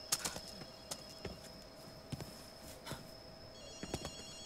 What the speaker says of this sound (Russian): Акито, слышишь, телефон звонит?